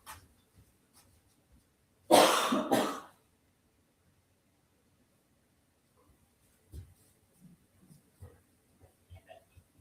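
One person gives a short double cough or throat-clearing burst. Quiet stretches and faint rustling and small knocks follow.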